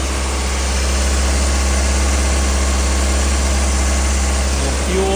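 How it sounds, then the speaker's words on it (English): Honda B20 VTEC engine idling slightly high at its first start-up, a steady loud rumbling drone with constant vibration, close and unbroken, with no talk. "Our idle's a little high."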